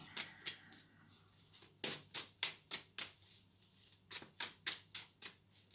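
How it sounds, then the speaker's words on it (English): A deck of tarot cards is shuffled up close in a quiet room, producing rhythmic bursts of crisp slapping and riffling, in short groups with brief pauses between them. "Oh, it's making me shuffle at the moment."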